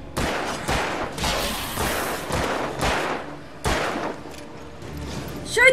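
Gunfire in the video game Alan Wake while defending a viewing platform: repeated sharp shots and short bursts, loud and close, spaced through the clip with brief gaps between them.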